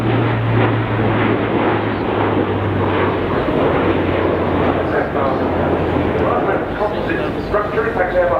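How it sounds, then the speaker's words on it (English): Airbus A400M military transport aircraft flying at the RIAT airshow, a loud, steady propeller and engine roar with a low hum, heard under continuous commentary over the public address. "The aircraft now positioning for a short landing."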